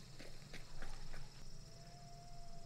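Horses in the Hunt: Showdown video game give a few faint, sparse hoof clops early on, quiet and distant beneath a constant hiss of game ambience.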